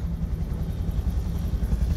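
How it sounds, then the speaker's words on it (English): A helicopter flying over a forest fire near Hay River, its rotor drone steady and fairly loud throughout with no talking. "another helicopter over there near the sombrero"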